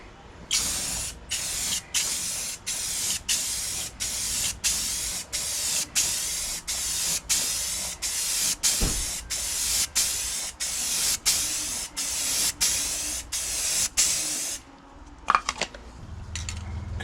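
Spray paint hisses onto a Mazda MX5 rising sun headlight cover for the final coat, in a quick run of about fourteen short, close bursts with brief gaps, then quiet for the last couple of seconds.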